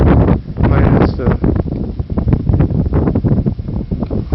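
Strong wind buffeting a microphone outdoors beside the northbound lanes of a highway, loud rough gusting roar throughout with constant rumbling and fluttering, no clear voices.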